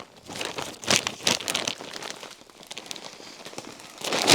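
A bag of potting soil premixed with slow-release fertilizer being torn open, with close, loud crinkling and ripping of the plastic in several bursts and a final louder rip.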